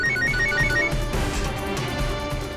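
A telephone rings in a haveli, a loud electronic ringtone with a repeating tonal pattern that fades into a musical background after about a second.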